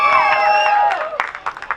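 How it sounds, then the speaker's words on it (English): An audience at a youth festival stand-up comedy night lets out loud whoops and high cheers, then scattered claps that pop out as the cheering fades, all fairly close. "Give yourselves a round of applause."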